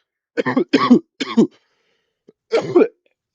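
Several short, rough throat-clearing coughs in two bursts, close up, with a brief pause between them and no talking.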